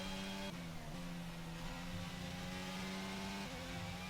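Formula 1 car engine in the F1 22 video game on a straight, a loud steady high-revving drone with brief pitch drops at each upshift, continuous throughout with no talking.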